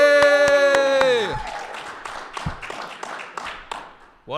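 A crowd claps and cheers in a podcast room at a baseball conference, with a sustained whoop at the start giving way to scattered, lively applause.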